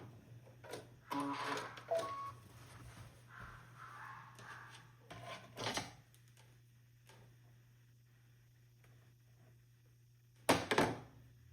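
A sewing machine making back stitches at the end of a seam on an oven mitt, short bursts of rapid mechanical ticking separated by quiet pauses, close and fairly soft.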